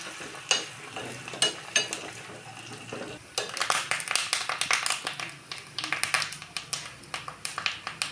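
Dried red chillies and curry leaves crackle and sputter in hot oil, a close, uneven sizzle with sharp popping bursts, growing busier and more spattering partway through, with no talk.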